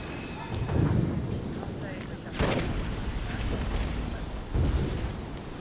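Howitzer artillery in the Toy Soldiers video game fires three heavy booms spaced a couple of seconds apart, each followed by a rumbling tail, beneath steady game noise and someone talking throughout.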